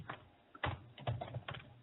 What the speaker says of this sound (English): I'm typing it as we speak